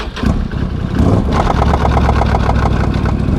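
A four-wheeler ATV engine runs at a steady close idle with a rapid, even putter and slight rev swells, loud and alone.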